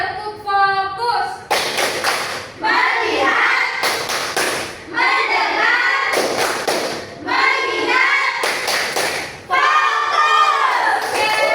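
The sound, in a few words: children doing the rhythmic clapping game tepuk fokus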